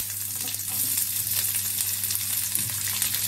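Onions and curry leaves sautéing in hot oil with crackling mustard seeds, a steady close sizzle and fry with faint popping, no talk, while the potato stuffing for dosa is being made.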